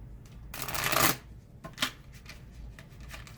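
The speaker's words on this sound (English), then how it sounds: "Let's pull a card and see." Tarot cards are shuffled and pulled, a crisp riffling burst followed by softer flicks and slides of card stock, close and quiet with no talk.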